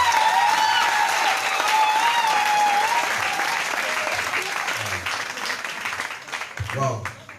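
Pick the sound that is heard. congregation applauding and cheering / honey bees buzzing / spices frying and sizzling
congregation applauding and cheering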